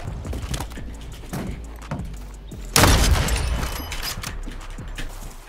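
Gunfire from a large-magazine gun in a shooter video game: a few separate sharp shots, then a loud burst near the middle that fades out, close and fairly loud.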